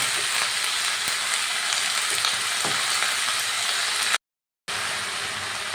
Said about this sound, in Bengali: বাঁধাকপির সাথে আলুটাও ভেজে নেব একসঙ্গে